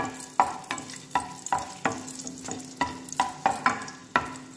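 Raisins frying on low heat in a pan for rava kesari, a sizzling bed broken by about a dozen sharp, regular stirring clacks of a spoon against the pan, close and clear with no voices.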